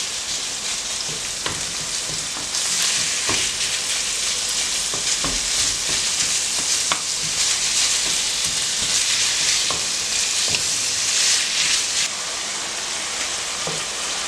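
Food for a Greek dish cooks in a pan while being mashed, giving a loud, constant sizzle broken by repeated scrapes and knocks of a utensil against the pan.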